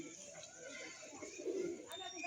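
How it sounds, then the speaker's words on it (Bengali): A pigeon coos softly, a low throaty warble surfacing briefly midway over faint outdoor background noise, with a hint of distant voices. "এই পায়রাটা এসেছে বন্ধুরা"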